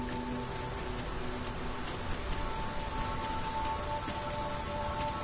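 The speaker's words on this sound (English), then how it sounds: "Mind the rain, Master." Rain falling in the video game Dragon's Dogma 2, a steady, dense hiss of drops pattering on surfaces, even in level and continuous throughout, with no voices.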